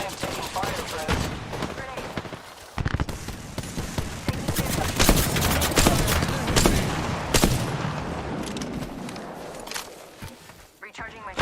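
Rapid gunfire in a shooter video game hitting the player, dense bursts of automatic shots and impacts rolling on with brief gaps, loud and busy, with footsteps and other game effects mixed in.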